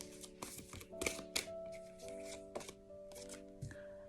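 Tarot cards shuffle and slide in quick, soft bursts of riffling and flicking, close and quiet, alongside steady background tones.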